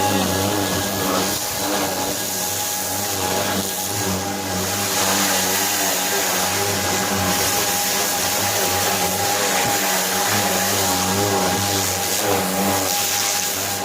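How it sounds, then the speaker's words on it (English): A pressure washer runs steadily and loudly throughout while de-greasing the engine of a 1966 Ford F100 shop truck, its constant motor drone and hiss close and unbroken, with no talking. "Pressure washer's gonna die."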